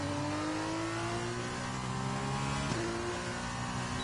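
A GP2 race car engine holds a steady high-revving whine on a sim racing lap of Bahrain, with a brief dip and gear shift partway through before the pitch climbs again, alone without talk.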